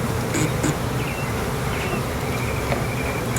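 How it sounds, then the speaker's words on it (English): Honeybees in an open hive with the telescopic cover off, a steady close buzzing drone that fills the clip without pause, outdoors at a spring field meeting. "there's a lot of bees already in there."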